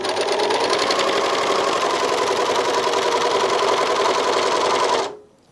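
A Janome 644D serger overlocker runs steadily at speed, gathering light fabric with differential feed in one continuous loud mechanical whir and rapid stitching clatter that stops abruptly near the end.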